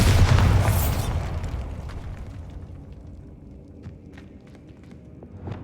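A Bombarda blast spell in Hogwarts Legacy, a video game, lands as a loud, close boom at the start that slowly fades into rumbling debris, followed by scattered small clicks and a faint thump near the end.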